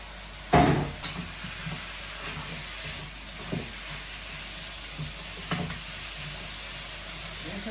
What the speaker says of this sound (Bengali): মাছটা দিয়েও ভালোভাবে একটু কষায় নেই মাছটা দিয়ে দিলাম